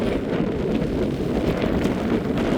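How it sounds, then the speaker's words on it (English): Strong wind blows across an exposed hilltop near a mountain summit, buffeting the microphone with a loud low roar that stays steady through the short stretch, with no speech. "Look at that wind."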